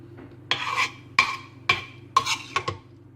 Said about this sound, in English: So we spoon the spinach